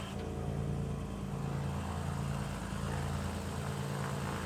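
A Royal Flying Doctor Service airplane in Australia drones with a steady, loud engine roar, heard from inside the cabin as one unbroken noise with no voices.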